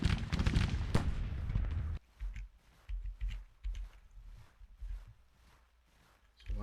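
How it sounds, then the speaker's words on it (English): Civil War artillery near Antietam Creek in Grand Tactician opens with a loud burst of cannon fire and crackling shots for two seconds, then gives way to quieter distant rumbles beneath someone talking. "James's artillery now firing from across Antietam."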